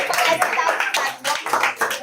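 Audience clapping at a creator event, a burst of close hand claps with uneven rhythm that swells and dips, with voices mixed in.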